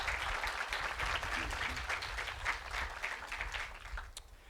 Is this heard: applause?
yes